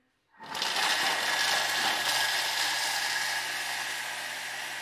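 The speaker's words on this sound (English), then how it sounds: "So you put in some Parmesan cheese, and then we grate that." Thermomix kitchen appliance grating Parmesan cheese, a loud steady high-speed whir that starts abruptly and holds for several seconds with a faint mechanical rattle and no talking.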